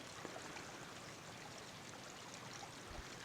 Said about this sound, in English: Here's a shot of the Ozette River.